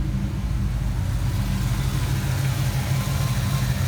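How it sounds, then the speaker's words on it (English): A Ford Mustang Fox Body 5.0 V8 idles steadily after a water pump and timing chain job, a low, even rumble that holds close and constant. "It's idling really good."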